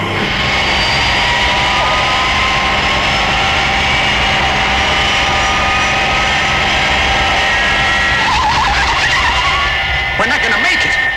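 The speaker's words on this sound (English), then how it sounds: "Hold tight, fire flash. Applying maximum brakes." Fireflash aircraft from the Thunderbirds series braking hard on a runway, with a loud, continuous tire skid under a roaring engine throughout, and sharper squeal bursts near the end.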